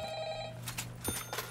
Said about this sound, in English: Where is the phone?